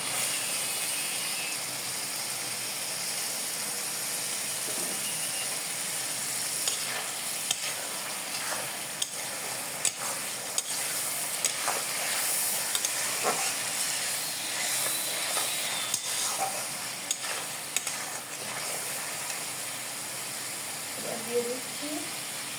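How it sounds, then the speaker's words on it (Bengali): Potatoes go into a pan of sizzling spice paste for a fish curry, giving a steady frying hiss with scattered stirring scrapes and clinks throughout, with voices briefly heard in the background. "এখন আমরা আলুগুলো দিয়ে দিব।"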